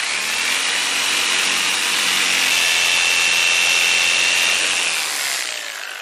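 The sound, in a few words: jigsaw cutting wood fin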